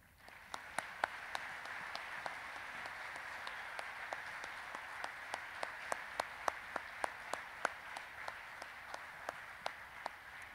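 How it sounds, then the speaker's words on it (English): Steady applause from an audience at a Veterans Day program honoring service members, dense sustained clapping with sharper individual claps standing out, filling a hall at even loudness throughout. "Let's give all of those people one more big round of applause"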